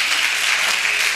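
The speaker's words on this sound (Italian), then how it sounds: "sì, facciamo l'applauso." Applause at an outdoor town festival in Lauria, a dense, steady crackle of many hands clapping together, loud and continuous throughout the short moment with no voices on top.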